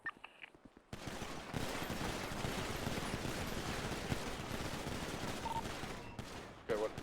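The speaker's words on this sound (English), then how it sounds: "you're going to approach the target, slow walking and firing at the same time." Gunfire at a shooting academy as shooters walk slowly toward their targets firing, a dense, continuous crackle of shots after a brief quiet start, fairly distant and steady.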